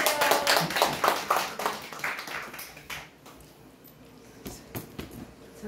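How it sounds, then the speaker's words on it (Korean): Audience at a church group evangelism gathering clapping, a burst of hand claps that is dense at first and then thins into scattered claps, fairly faint in a room. "큰 박수 받았어요."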